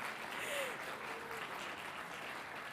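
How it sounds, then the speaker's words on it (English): Applause at a city council meeting in Las Cruces, a soft, steady patter of clapping from a crowd that continues throughout, faint and at a distance. "So I expect no less than a raucous round of applause."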